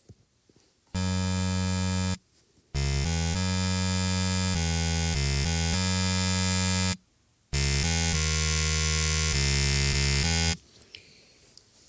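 X Gray, a character from the video game Sprunki, gives off a loud, dense electronic buzzing tone in three long sustained bursts separated by short gaps, with no talking.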